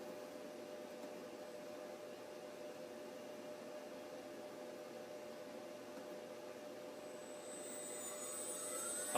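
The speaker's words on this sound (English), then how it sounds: "if I turn my spindle on" A Chinese 6090GZ CNC router spindle, set to 20,000 rpm, starts up under a steady broadband hum; near the end a high-pitched whine rises and sweeps upward as the spindle spins up.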